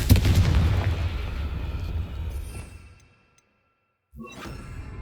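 A Confringo blasting spell fired in Hogwarts Legacy, a loud fiery burst with a whooshing, rumbling decay that fades into silence, followed by another sharp magical impact.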